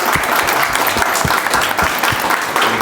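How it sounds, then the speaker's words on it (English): Enthusiastic audience applause at a group art exhibition, dense close clapping that stays strong and unbroken for a few seconds. "Let's give them a round of applause for all the hard work that they did."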